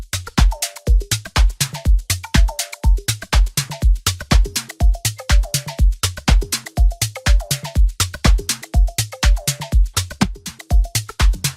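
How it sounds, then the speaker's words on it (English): A steady electronic drum groove of crisp hi-hats and snappy claps over punchy low hits, looping in a tight, even rhythm with no voices. "It's just coming up with a simple hi-hat clap groove."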